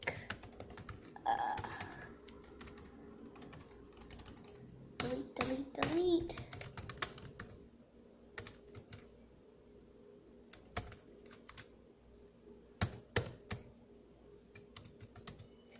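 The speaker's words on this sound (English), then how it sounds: "Sorry guys, I just like typing." Someone types on a computer keyboard in a quiet home, giving irregular bursts of close key clicks with pauses between them. A voice murmurs faintly in the background.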